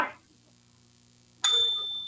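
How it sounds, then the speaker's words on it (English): Small hand bell struck once after a short quiet pause, giving a single clear, bright ding that rings on and slowly fades, close and alone. "That was actually quite a nice little fairy ding, that was."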